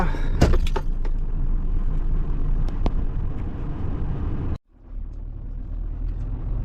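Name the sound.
truck engine started and running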